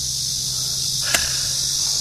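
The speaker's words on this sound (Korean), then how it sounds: "매미 소리를 들으니까" Cicadas drone in hot summer weather in a shady spot by submerged trees at a fishing lake, a steady high, dense buzz running through the whole stretch, with one brief sharp click partway through and no talking.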